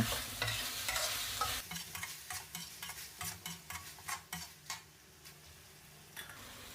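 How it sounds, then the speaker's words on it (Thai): Pork being stir-fried with oyster sauce, soy sauce, seasoning sauce and a little sugar, a spatula scraping and tossing it around a hot sizzling pan in steady, close, repeated strokes, with no talking. "ผัดคลุกเคล้าให้ส่วนผสมเข้ากันได้เลยนะ"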